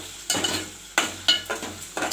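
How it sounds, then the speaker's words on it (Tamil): Onion and tomato being sautéed for mutton kulambu: a spoon scrapes and stirs the pan in several quick bursts, each bringing a short sizzle, heard close with quiet pauses in between. "வெங்காயம் தக்காளி நல்லா வதங்கணும்."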